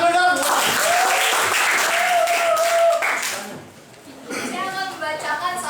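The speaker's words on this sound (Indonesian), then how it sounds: "Tepuk tangan dong." Students in a high school classroom break into brief applause amid lively voices, with talking continuing over and after the clapping.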